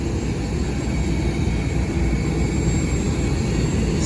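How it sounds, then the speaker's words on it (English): Steady, loud, broadband roar of an airplane cabin in flight to Belfast, a constant engine and air rush with no breaks or voices. "Getting on a plane to Belfast."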